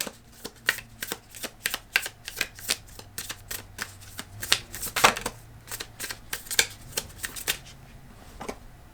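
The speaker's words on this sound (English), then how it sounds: "I'm gonna pull one last card for you, Virgo, from the Energy Archaeology deck." A tarot-style oracle deck is shuffled by hand, giving a quick, uneven series of crisp card riffles and slaps close up, continuing for several seconds with no talk.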